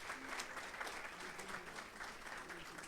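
An audience applauds to welcome a guest speaker at a talk, a steady, fairly distant clatter of many hands clapping throughout.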